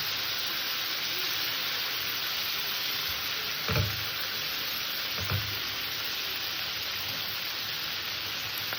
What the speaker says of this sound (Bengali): চিংড়ি মাছটাকে আমি একটু ভেজে নেবো তবে চিংড়ি মাছের আমি খুব কড়া ভাজবো না হালকা করে চিংড়ি মাছটাকে ভেজে নেব